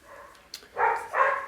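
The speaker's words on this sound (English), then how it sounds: "Excuse the barking, that would be the dogs playing." Two short, mid-pitched barks from dogs playing a little way off, following a faint yip, with a brief pause between them.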